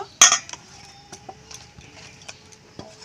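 Mashed papaya is scraped from a utensil into a mixing bowl: one sharp metallic clink, then a scatter of light taps and scrapes, close and clear.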